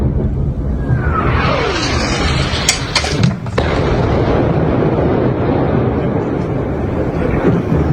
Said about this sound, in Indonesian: Ledakan dan kepulan asap terlihat di langit kota Kfar Jos, Lebanon Selatan.